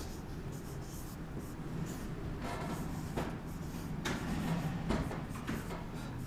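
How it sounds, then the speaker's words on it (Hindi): A pen scratches across paper in a quiet room, soft, uneven strokes arriving in short bursts with brief pauses between words, faint and close. "लिख देते हैं अपन"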